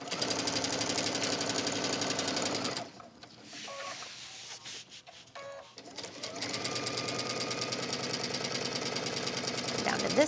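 Sewing machine stitching waxed canvas in fast, steady mechanical bursts, pausing for a few seconds midway with brief handling clicks, then running again; no talking.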